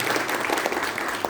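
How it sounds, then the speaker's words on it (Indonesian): Steady applause from a gathered crowd honoring a racing team, a dense continuous wash of clapping lasting the whole moment with no voices over it. "Aplaus untuk Winners Team."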